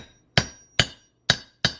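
A hammer drives a valve into a cylinder head on an Eclipse 2G engine build: four sharp, evenly spaced metallic knocks, close and loud, each ringing briefly before fading.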